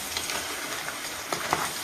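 Masala for crab fry with tamarind leaves frying in a pan, a steady soft sizzle with a few brief pops and crackles near the end.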